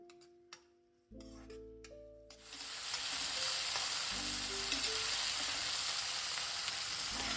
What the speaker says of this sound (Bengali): সেগুলোকে সব দেওয়ার পরে আমি হাই ফ্লেমে কিছুক্ষণ ওটাকে ফ্রাই করে নেব।